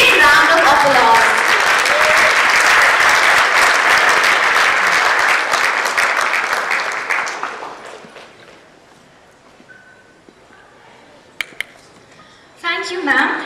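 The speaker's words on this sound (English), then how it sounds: "Ladies and gentlemen, let us give them a big round of applause." Audience applause for teen finalists at a youth awards ceremony: dense, loud clapping from a large crowd for about seven seconds, then fading out, followed by quiet room tone and a voice starting near the end.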